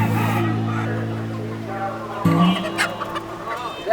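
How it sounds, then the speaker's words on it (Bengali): Chickens and roosters at a busy town market in Bangladesh cluck and squawk close by, a steady run of throaty calls followed by sharper squawks, with people talking in the background. "এই যে এখানে দেখতে পাচ্ছি বিভিন্ন ধরনের মোরগ মুরগি"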